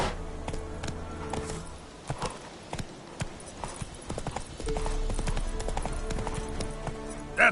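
Hooves of Roach, a horse in the video game Witcher 3, clip-clop in a steady trotting rhythm, fairly close and clear, with a brief rider's call and some background game sound.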